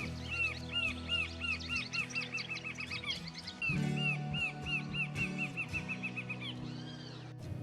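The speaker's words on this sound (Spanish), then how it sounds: "la choca corona rojiza, reconocible por su distintiva vocalización" A rufous-capped antshrike repeats a rapid series of nasal, quacking call notes over a steady low hum, pausing briefly midway before continuing the rhythmic calling.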